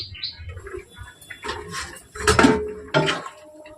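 A lid set down on a cooking pot during home cooking of pabda fish with potatoes and lentil dumplings, giving a few close metallic clinks and clatters, with one louder knock near the middle and another shortly after.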